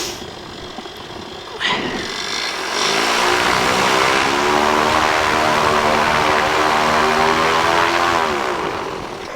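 A PeaBee light aircraft's propeller engine runs steadily while backtracking on runway 31 at a farm airstrip, rising in pitch as it picks up power after a quieter start, loud and continuous throughout.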